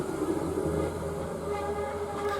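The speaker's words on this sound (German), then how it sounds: "Da fährt ein kleines Tram vorbei." A small tram rolls by on a street below, its steady rumble of wheels on rail filling a short stretch with a continuous low drone and faint tonal hum, no voices.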